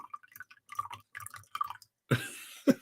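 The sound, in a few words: coffee being poured loudly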